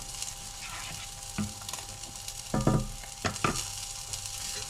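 Bass fillet frying in a pan with lemon zest: a soft, steady sizzle, fairly quiet and close, broken by a few sharper clinks and scrapes of a utensil against the pan.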